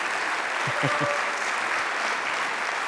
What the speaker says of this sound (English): let's clap a little bit louder, please.